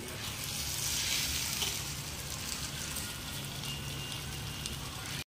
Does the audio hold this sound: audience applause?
no